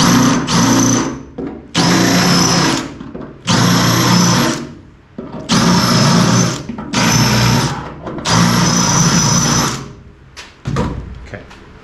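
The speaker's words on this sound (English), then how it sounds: "I'll run that small spot weld cutter back in them" Small spot weld cutter drilling into the quarter panel of a first-generation Toyota 4Runner, running in six loud bursts of a few seconds each, separated by brief pauses, close by.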